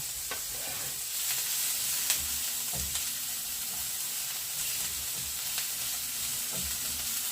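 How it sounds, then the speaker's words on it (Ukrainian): Chopped onion fries in a little oil, giving a steady close sizzle and crackle with occasional soft stirring taps, and no voices. "Цибулька, коли мало жиру, мало олії, то вона швидше підсмажується і швидше підрум'янюється"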